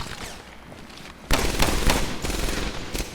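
Rapid pistol gunfire in the World War II shooter Medal of Honor: Airborne, a burst of close, loud overlapping shots that starts abruptly and rattles on without pause, with no voices over it.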